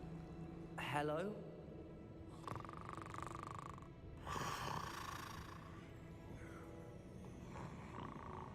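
Snoring in the video game Hogwarts Legacy: several slow, deep rasping breaths rising and falling, fairly quiet, mixed with creaks and speech in a low, dim game soundscape.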